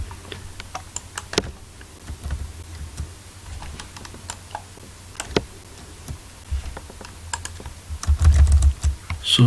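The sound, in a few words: typing code on a computer keyboard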